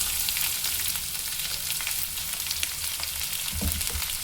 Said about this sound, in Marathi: हे सगळं चांगलं आपल्याला ह्या तेलामध्ये परतून घ्यायचं आहे.